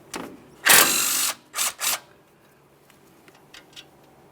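A hand ratchet loosens a 10mm mounting bolt on the flex hose bracket of a 2015-2020 Ford F-150 front steering knuckle, with one long loud clicking burst followed by two shorter ones, then faint taps.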